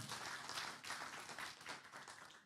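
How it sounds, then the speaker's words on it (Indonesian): Faint, distant applause from a church congregation during an Indonesian sermon, a soft continuous patter of clapping that swells and dips without anyone speaking. "Tepuk tangan bagi Tuhan."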